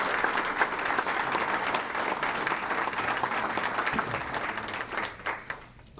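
An awards crowd claps steadily for the 2016 high school Athlete of the Year, dense even applause that holds for several seconds before thinning toward the end.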